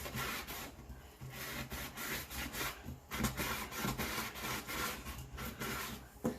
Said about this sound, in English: I even do have a little small piece of sandpaper. That way you can just like V-fold it and you can get both the inside and the outside